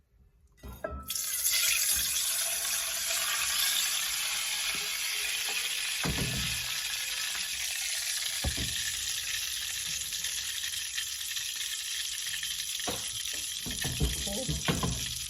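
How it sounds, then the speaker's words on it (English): Hot olive oil left from frying plantain is drained, giving a continuous hiss and sizzle with scattered clinks and knocks of the pan, close and fairly quiet, with no talking. "So now I'm going to drain the oil because we don't need all this oil."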